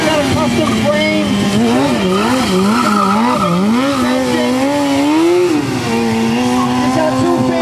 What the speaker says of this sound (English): He is riding the 2003 Kawasaki 636.